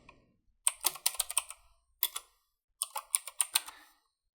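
Close-up keyboard typing comes in three quick bursts of crisp clicking keystrokes, separated by short pauses.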